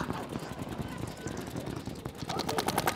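Rapid paintball gun shots popping in bursts during a woodsball-style game, mixed with running, rustling and shouting players throughout, with a denser flurry of quick reports near the end.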